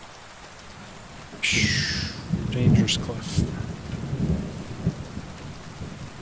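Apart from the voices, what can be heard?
rain and thunder in the video game Kingdom Come: Deliverance 2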